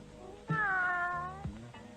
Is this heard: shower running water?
no